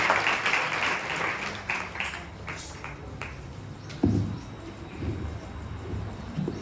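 A church congregation at a Good Friday service claps to welcome a speaker, a moderately loud round of applause that thins into scattered claps and then swells briefly again.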